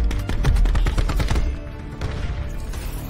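Rapid automatic gunfire in the shooter Black Ops 4 multiplayer, a fast close burst of shots in the first second and a half, then sparser shots and lingering game noise.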